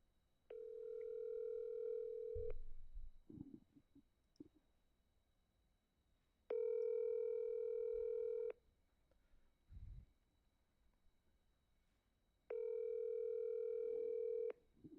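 Three long telephone ringback tones about two seconds each, repeating every six seconds, loud and steady, with low thumps and rustles between rings and no talking.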